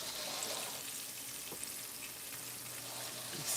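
Steak sizzling and frying steadily in a pan for steak and gravy, a constant close hiss with faint stirring clicks, heard alone without talk.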